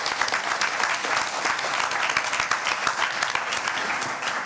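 An audience at a forum on Jeju 4.3 and Zainichi Koreans breaks into steady, dense applause welcoming a speaker, sustained clapping of many hands filling the hall without pause and no voices over it.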